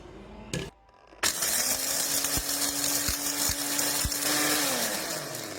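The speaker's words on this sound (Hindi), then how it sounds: "अब मैं इसको ग्राइंड कर लूँगा।" An electric grinder pulverizes whole spices for nihari masala, starting with a brief whir, then a sustained loud motor whine with rattling grit, winding down at the end.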